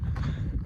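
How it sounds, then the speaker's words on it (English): A cow walks near a hiking trail on the Continental Divide between Burro Mountain and Davila Ranch, its hooves landing in a quick run of dull, close thuds against light wind noise. "It's a cow."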